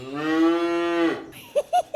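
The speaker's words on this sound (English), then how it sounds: "Feeding a Highland cow." A Highland cow gives one long, loud, close moo with a strong steady pitch, followed by several short, sharp knocks or clanks near the end.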